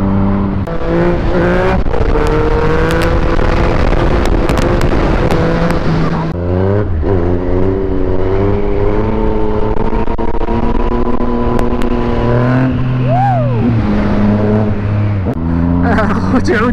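Yamaha MT09 motorcycle engine revving loudly and close, with repeated throttle blips rising and falling in pitch, long sustained high revs and a sharp drop midway, continuous and dominating throughout.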